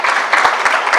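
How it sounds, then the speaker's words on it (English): An audience at a scholarship breakfast claps steadily, dense and lively applause filling the room without any speech. "Give her another round of applause."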